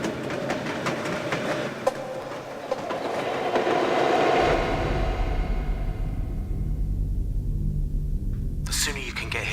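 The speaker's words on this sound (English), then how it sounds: "you can catch the late train from Paddington to Weymouth" A train runs on rails in the video game Dark Fall: The Journal, a steady rumbling clatter that swells and then settles into a low, continuous drone, ending with a brief bright burst.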